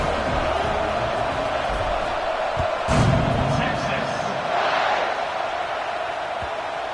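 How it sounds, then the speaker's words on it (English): A stadium crowd in an NCAA college football video game gives a steady, distant roar before a kickoff, swelling slightly twice, with a commentator talking over it. "They're set to kick it off, and this crowd now ready to get behind them."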